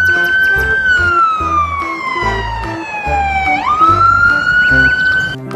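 A toy fire truck siren wails in a long slow fall and rise, loud and close, over a rhythmic electronic backing tune.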